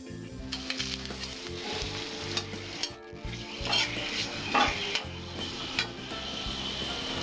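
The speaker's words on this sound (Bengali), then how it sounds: "জিরের কালারটা ব্রাউন কালার হবে, তখন আমি তেজপাতাটা ছেড়ে দেব।" Cumin seeds and a bay leaf sizzle steadily in hot oil for a pomfret fish curry, a close, continuous crackle broken by occasional scraping stirs of a spoon against the pan.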